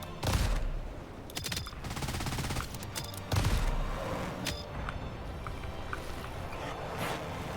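Tank guns firing in Trailmakers, several loud blasts and rapid bursts of clattering fire over a constant engine rumble, with metallic pings scattered between the shots.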